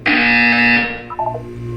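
A loud, harsh buzzer from the video game Portal 2 sounds once and holds steadily for nearly a second before fading, followed by faint electronic tones.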